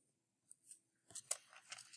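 Paper is torn by hand into small pieces for a collage, a few quick, soft ripping bursts up close that grow busier toward the end.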